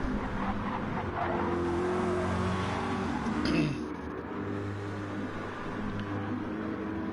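Corvette and Lamborghini race cars in a racing video game run side by side, loud engines droning and revving steadily, with one car's note swelling and then sweeping past midway before a lower engine hum carries on.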